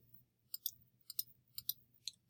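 Soft computer mouse clicks come in four quick pairs about half a second apart while a selection is traced around a curve. They are quiet over a low, steady hum, and nobody speaks.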